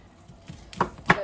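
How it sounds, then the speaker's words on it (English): A kitchen knife cuts the ends off scrubbed vegetables on a cutting board, with two quick, crisp chops close by in a quiet room. "We're just going to cut the ends off of these."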